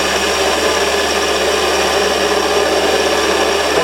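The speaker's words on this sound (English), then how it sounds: "I can hear that grating of it." A Warco WM180 lathe cuts bar stock at slow speed, giving a loud, continuous grating whine with a steady rough texture throughout.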